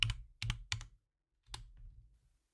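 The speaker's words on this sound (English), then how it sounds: "And then we just type host name." A short command is typed on a computer keyboard, a quick burst of three crisp key clicks, a brief pause, then a final keystroke like pressing enter, close and fairly quiet with no voices.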